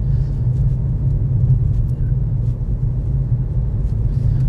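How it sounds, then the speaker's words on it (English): A car drives through Evanton, a Highland village in Scotland, heard from inside as a steady loud low road rumble and engine drone with faint ticks and no one speaking. "Now we'll just have a quick drive through Evanton."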